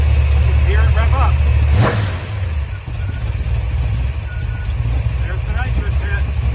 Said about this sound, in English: let's hear it rev up